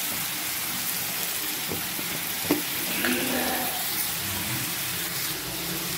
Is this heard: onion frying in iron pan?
yes